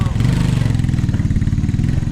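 A motorcycle engine throbs steadily with a low, pulsing rumble close by on a rural road, loud throughout the short moment while voices talk faintly over it.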